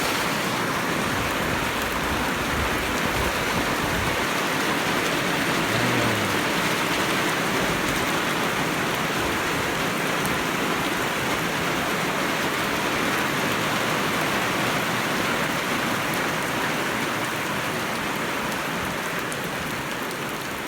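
Steady rain pours down outdoors, a dense, constant hiss of drops hitting surfaces that stays loud and even throughout, with no voices.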